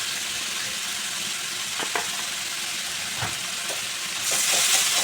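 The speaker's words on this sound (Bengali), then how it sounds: "সব কিছু মশলা একটু ভালো করে 1 মিনিট ভালো করে কষিয়ে নেব" Spices with turmeric and Kashmiri chilli powder fry in a pan for a fish curry, making a steady close sizzle with occasional stirring clicks. The sizzle grows brighter and louder near the end.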